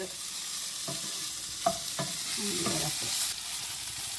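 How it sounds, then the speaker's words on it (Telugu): Curry leaves frying in a pan with a low steady sizzle, punctuated by several distinct scrapes and clinks of a spoon stirring, close and fairly quiet. "ఇలా ఆకు కలర్ మారే వరకు మనం వేయించుకోవాలి"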